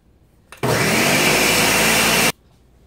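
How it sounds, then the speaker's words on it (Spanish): A kitchen blender mixes cream cheese and milks for a layered gelatin dessert, switching on abruptly with a loud, steady whirring drone that holds for nearly two seconds before cutting off cleanly. "Ok, y vamos a licuar."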